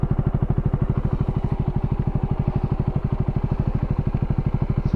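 A dirt bike engine thumps steadily and evenly at a constant pace while riding, loud and close, with a dense regular pulse and no talk.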